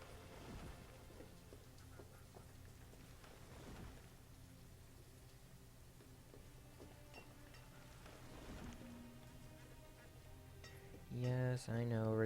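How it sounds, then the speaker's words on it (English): Steady rain in the video game Banished, an even hiss with faint rumbles running throughout, followed by a brief burst of louder sound at the end. "Lots of rain at the very beginning."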